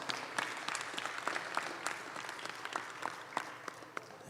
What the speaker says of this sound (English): Let's give all of our youth a nice big round of applause.